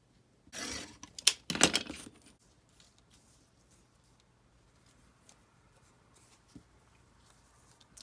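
Paper for a junk journal is cut in half, making two short, crisp, crunchy bursts close by, then near silence with faint rustles.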